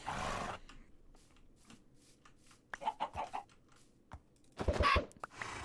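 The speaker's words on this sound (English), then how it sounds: "a chicken actually popped out" A chicken in the Minecraft SevTech: Ages of the Sky modpack gives short clucks in scattered bursts, fairly quiet against near silence, with a few soft game sounds between them.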